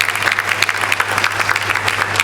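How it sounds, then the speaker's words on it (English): An audience at a celebration event claps steadily for over two seconds, a dense and loud patter of many hands with no voices over it. "Every time you pause, they clap."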